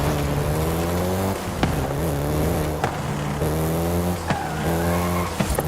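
A Volkswagen Golf GTI driven in Forza Horizon 5 on Xbox Series S, its engine revving up through repeated gear shifts with brief tire squeals, loud and continuous.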